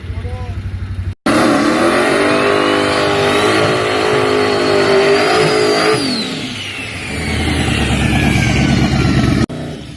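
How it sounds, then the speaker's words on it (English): A race car engine at the starting line revs hard and holds a high, strained pitch as it fails to spool up, then falls away and settles to a lower rumble, loud and close throughout. "Tried to spool up, car didn't want to spool up and backed off the line."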